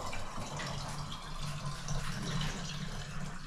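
Water pours steadily into a container for measuring, a continuous close trickling fill at moderate volume with no talk over it.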